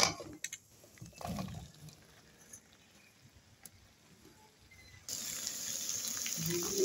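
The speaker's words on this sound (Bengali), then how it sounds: "আমি এর মধ্যে এখন জল দিয়ে একটু জল দিয়ে দিলাম।" Water running from a tap or poured into a pan of potato and soya chunks fried in spices for a curry, a soft splash early on and then a steady gushing stream over the final seconds.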